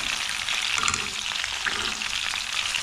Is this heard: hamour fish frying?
yes